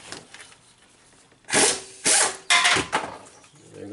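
Power tool buzzing out bolts on a Nissan Rogue during a transmission swap, three short loud rattling bursts of an impact or ratchet mechanism after a quiet start, close by with no talking.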